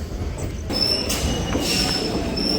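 A train pulling into Sealdah station, with loud, sustained metallic wheel squeal over a rolling rumble of railcars, heard close up throughout.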